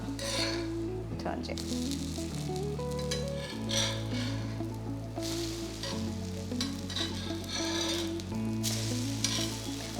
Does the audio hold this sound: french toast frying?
yes